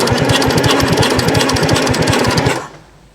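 An abandoned excavator's engine cranks over on the starter, with a fast, even rhythmic chugging of about six beats per second that is loud and close, then stops abruptly near the end, with no speech.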